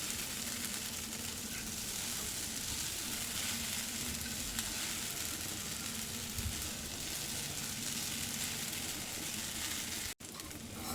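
Sabudana khichdi sizzles steadily in a hot pan as it is stirred, a continuous frying hiss with faint scraping.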